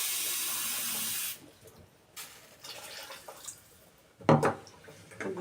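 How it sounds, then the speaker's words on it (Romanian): Water pours from a tap into a cooking pot in a kitchen, a steady splashing stream that stops after about a second, followed by faint clinks and a brief louder splash. "Completăm cu apă așa pe rând."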